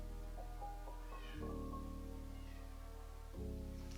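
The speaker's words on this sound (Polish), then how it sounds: "mój kot bardzo głośno wokalizuje swój wewnętrzny głos" A cat meows loudly and repeatedly, long drawn-out calls at close range over a steady low hum.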